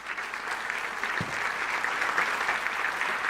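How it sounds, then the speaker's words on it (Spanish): An audience in an auditorium gives loud, sustained applause to welcome a neuroscience speaker on stage, a dense even clatter of many hands that holds steady throughout. "con este fuerte aplauso lo recibimos"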